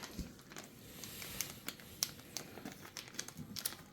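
A plastic bag of screws from a 3D printer unboxing crinkles and rustles in close, quiet bursts of small crackles, with no talking.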